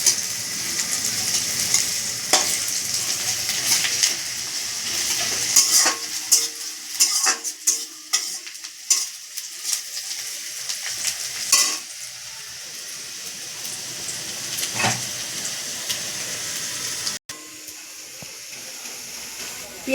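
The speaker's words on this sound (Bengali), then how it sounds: "পেঁয়াজটা লাল লাল করে ভেজে নিয়েছি" Onions sizzle steadily in a pan for chicken ghugni, a broad frying hiss with intermittent clinks and scrapes of a stirring utensil, loudest in the first few seconds, then continuing under scattered knocks.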